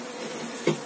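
A young honeybee buzzes close by with a brief, louder burst near the end over a soft humming background.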